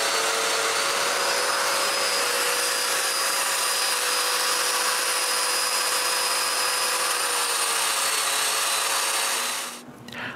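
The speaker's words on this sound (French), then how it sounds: "puis je perce des mortaises." A power drill bores mortises into wooden tripod sections, a loud, steady high-pitched whine that runs without pause for about ten seconds before winding down at the end.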